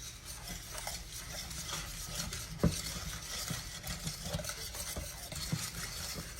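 A spoon stirs melted butter and brown sugar in a pan as it cooks toward caramel, with soft continuous scraping and faint bubbling, plus one sharper knock midway.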